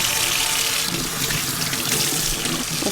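Warm water runs steadily from a tap into a sink being filled for a baby's bath, a continuous close splashing rush with no pauses.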